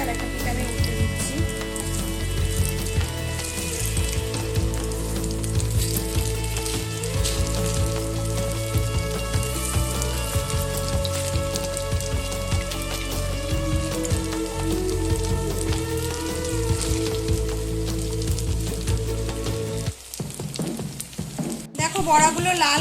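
Sago fritters that have just been flipped keep frying in oil with a continuous crackling sizzle, dipping briefly near the end amid a few clatters before the hiss resumes.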